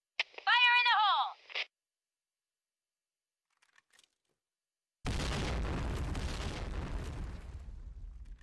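A grenade explodes in a clan-war match of a first-person shooter, a sudden loud boom followed by a long rumbling decay after a short burst of a voice and a few faint clicks.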